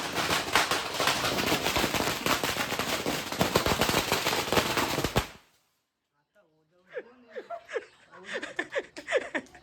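Firecrackers set off in a rapid, crackling barrage on SSLC exam result day in Kerala, loud and dense for about five seconds, then silence followed by people talking and laughing.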